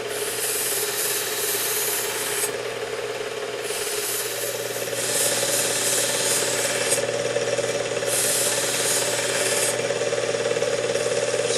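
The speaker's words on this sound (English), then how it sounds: "I'm going to use the medium grit belt and draw a burr all the way down the cutting edge of the knife." Knife drawn across the medium grit belt of a WS2000 sharpener, a loud continuous grinding rasp over a steady motor hum that shifts slightly in tone between passes, with no talking.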